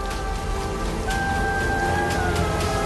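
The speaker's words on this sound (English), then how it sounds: "Rain, thank God." Steady rain falling in a dense, even hiss, with a faint sustained tone running over the downpour.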